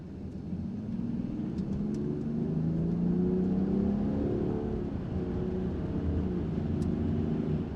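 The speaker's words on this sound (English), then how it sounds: "Let's get up to 60 miles per hour, slam on the brakes and see what happens." A Land Rover Defender 90 accelerating up to 60 mph, then braking hard: a steady, loud engine and road rumble holds through the whole stretch with no pauses and no talking.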